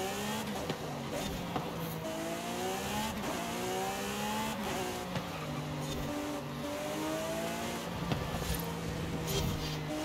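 Supercar engines rev and race in the video game Forza Horizon 5, with steady layered engine drone rising and falling in pitch through gear changes, loud and continuous, with faint talk beneath.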